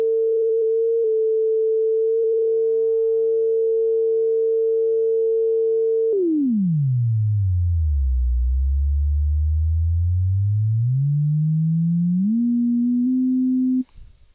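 Generated sine test tone from the auGenX sound app, a steady loud pure pitch that wobbles briefly, then sweeps smoothly down to a deep low hum and climbs back up in steps before cutting off.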